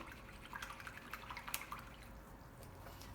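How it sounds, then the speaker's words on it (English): A paintbrush is rinsed in a container of water during acrylic painting, with soft, close dripping and light splashing patter in a short, quiet burst and no talking. "wash your brush out now"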